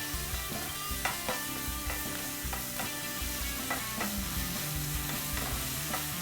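Bacon frying and crisping in a pan during a cooking show, a steady close sizzle with repeated stirring scrapes and clicks throughout, no talking.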